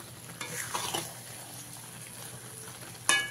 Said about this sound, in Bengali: এইভাবে আর অল্প কিছু সময় আমটাকে আমি ভেজে নেব চিনির সঙ্গে।